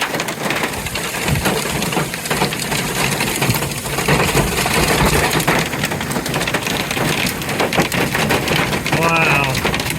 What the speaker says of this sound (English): Look at all the hail out there.